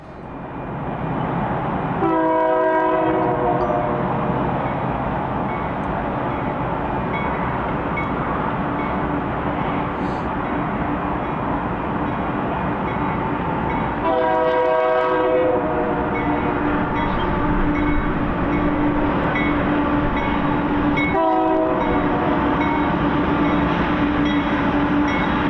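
A loud train in the Columbia River Gorge rumbles past steadily while its horn sounds three times, in long blasts spaced several seconds apart.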